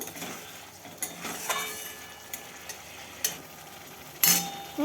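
A paneer and onion curry is stirred and sautéed in a pan: a soft low sizzle under scattered scraping spoon strokes and metallic clinks, with a sharper clatter near the end, close and fairly quiet.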